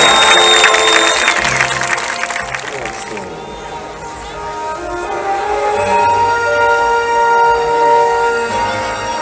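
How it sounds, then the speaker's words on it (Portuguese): An audience at a serenade during a town festival in Arcos de Valdevez, Portugal, claps in a dense, crowded burst that fades within a few seconds as sustained music rises and carries on alone. "eu peço uma calorosa e merecida salva de palmas"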